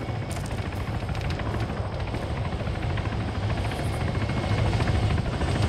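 A video game military helicopter at a landing zone gives a steady, loud rotor thump and engine drone that holds through the whole stretch with no voices over it.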